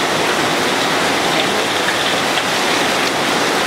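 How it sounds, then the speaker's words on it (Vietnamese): Heavy rain pouring down steadily, a dense, loud, unbroken hiss of falling water with no voices over it. "Ôi mưa quá xá luôn rồi."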